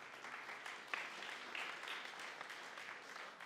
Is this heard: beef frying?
no